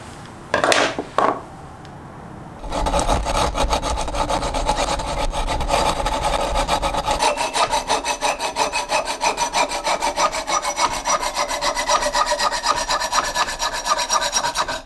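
A hacksaw cutting through a mountain bike fork steerer tube, quick steady back-and-forth strokes, loud and close, after a few brief handling knocks.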